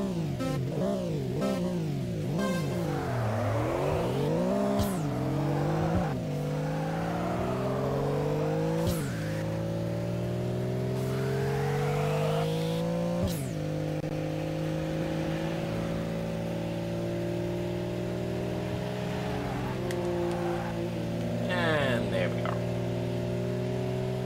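Upgraded car engine in the Street Supremacy racing game revving hard through repeated gear changes, its pitch climbing and dropping in a steady loud drone for the whole stretch.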